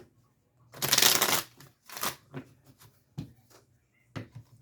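Tarot cards are shuffled close up, a loud riffling burst followed by a shorter riffle and several soft slaps and flicks as cards are drawn and laid down in a quiet room.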